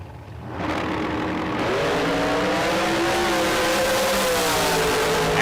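Drag race cars launch down the strip at a million-dollar event, their engines roaring loud and close, then climbing in pitch together as they accelerate hard. The sound stays dense and sustained to the end.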